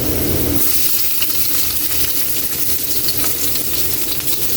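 Onions dropped into hot oil with browned garlic in a pan, bursting into a loud close sizzle that stays bright and crackling, with faint stirring, and no one speaking.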